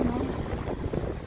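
Wind blowing across the microphone on a cold winter mountain hike near South Lawson Peak in Kananaskis, Alberta, a steady broadband roar that fills the whole short stretch.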